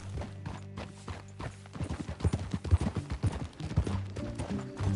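Rhythmic hoofbeats of a horse in the video game Red Dead Redemption 2 clip-clopping into a quickening gallop, with a low droning tone underneath.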